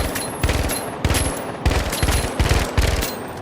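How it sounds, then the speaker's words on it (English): Famas burst rifle firing in the video game The Finals, five or six loud three-round bursts in a steady rhythm, close and alone with no talk. "first gun, new gun, Famas. It's a burst rifle"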